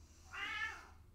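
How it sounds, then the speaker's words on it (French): A single short meow from a cat, fairly quiet and close, rising and falling over about half a second against a faint room hum. "c'est mon chat."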